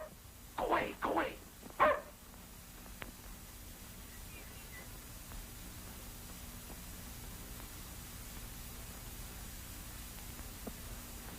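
A dog barks three times in quick succession, muffled and somewhat distant, in an old 1937 crime film scene with a house and front yard, followed by a long stretch of faint hiss and static.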